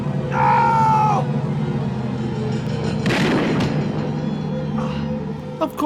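A gunshot in a 1982 science-fiction film, one loud boom in the middle among shouting voices and a steady hum.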